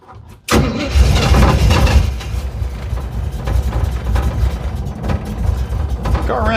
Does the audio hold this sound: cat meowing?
no